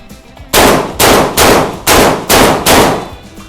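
Six loud, close shots from a Saricam shotgun at a shooting range ring out in a fairly even rhythm, each a sharp blast with a short decaying tail.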